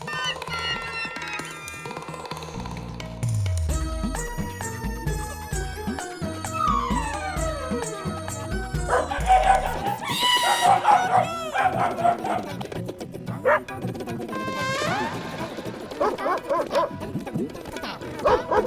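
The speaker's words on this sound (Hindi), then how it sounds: "कुत्ते की आवाज कहाँ से आ रही है?" A dog barks and yips repeatedly in a Hindi comedy film, mixed in with a busy musical score and sound effects, with barks scattered through the second half at moderate loudness.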